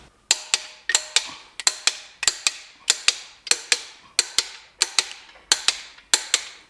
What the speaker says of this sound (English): let's get all these main caps torqued into place